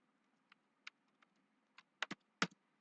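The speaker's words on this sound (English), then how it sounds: "So I'll just quickly type that" Quick bursts of typing on a computer keyboard, about eight distinct clicks arriving in an uneven rhythm. The final few keystrokes are louder, close and crisp, and they sound against a faint background hum.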